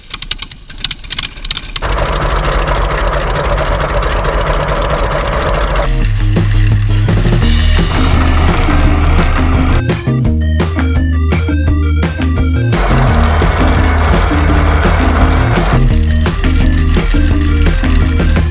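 A light aircraft engine drones during a break-in flight, a steady loud mid-pitched hum with a rougher pulsing section partway through, close and continuous with no talk.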